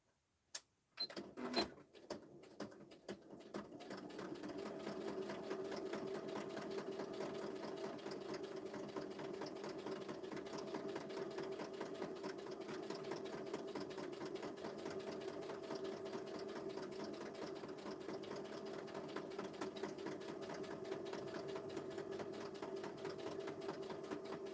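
Sewing machine stitching around the edge of a craft desktop flip book page, starting with a few sharp clicks and short bursts before settling into a long, steady, loud mechanical whirr that runs uninterrupted to the end.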